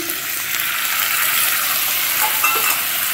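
Spice paste with sour yogurt sautés in a pan for a vegetarian potol (pointed gourd) gravy, giving a loud, dense, continuous sizzle with faint stirring scrapes and no speech.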